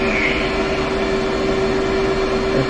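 A jet aircraft's left engine running up in the DCS flight simulator, a loud, steady whine and roar with a constant high tone and no pauses.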